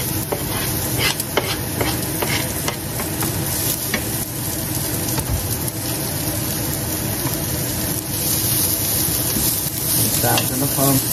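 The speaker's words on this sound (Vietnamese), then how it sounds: "Xào cho nó thơm" Ginger and shallots stir-fry in a little cooking oil, giving a steady, close, loud sizzle with frequent scraping and clinking from the stirring utensil.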